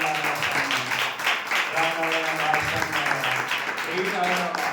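A congregation claps together during a Good Friday church service, the rhythmic clapping running under loud singing voices throughout.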